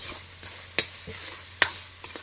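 A spoon stirs a sautéed dish in a pan while pepper and salt go in, soft scraping under a faint sizzle with two sharp clinks of utensil on pan, close and fairly quiet.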